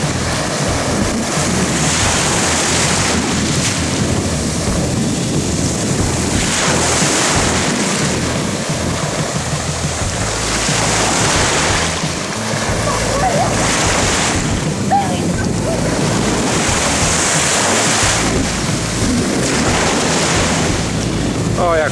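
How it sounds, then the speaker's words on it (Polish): Ocean waves surge and crash repeatedly onto the shore amid gusty wind noise, loud and close, with rhythmic swells every few seconds. "O, jak poszła aż do góry fala."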